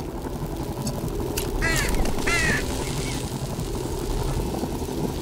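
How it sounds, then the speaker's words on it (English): A crow caws two or three times in The Talos Principle 2 video game, rising over a steady low engine-like drone and ambient background. "Why else would that bird sound happen?"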